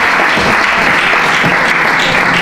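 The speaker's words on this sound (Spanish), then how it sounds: "Un fuerte aplauso." Loud, dense applause from an audience welcoming a speaker onto the stage at a women's forum, steady and close throughout the short clip.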